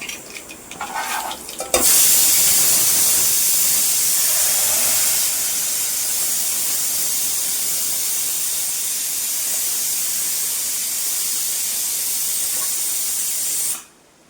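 A loud burst of sizzling as ground tomato puree hits hot oil, followed by a steady hiss of frying that continues and then cuts off abruptly.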